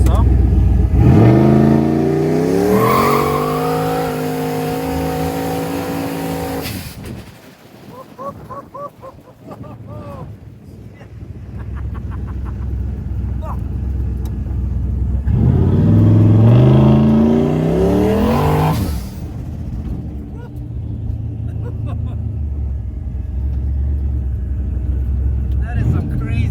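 A car doing a burnout at a racetrack event revs loud and close in two long, rising engine surges with a quieter idling stretch between them. Voices are heard nearby.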